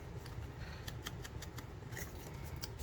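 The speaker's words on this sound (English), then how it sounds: "I also need to cut this corner too" Scissors snip through a corner of a paper folio in a few quick, faint close cuts, with no talk over them.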